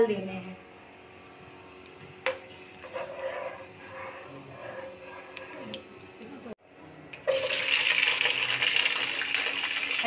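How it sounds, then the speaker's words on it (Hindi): Soaking water is tipped out of a container of cut potatoes, a loud broadband rush of draining water that bursts in near the end after speech over quieter kitchen sounds. "अब इसका पानी फेंक के आपने आलू इसके अंदर डाल"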